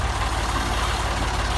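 A tractor engine running steadily with a heavy low rumble and constant idling drone, loud and close, with no talking over it.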